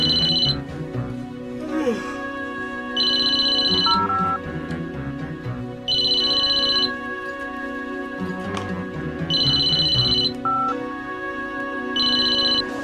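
A telephone rings in repeated bursts of about a second each, a steady electronic trill returning roughly every three seconds across the stretch, with background music and faint room sounds underneath and no clear speech.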